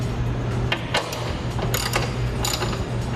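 A 1/2-inch ratchet turns a bolt on a front strut bar of a 10th-gen Honda Civic. It gives short bursts of rapid clicking, several brief ratcheting strokes spaced about half a second apart, close to the listener with a hum underneath.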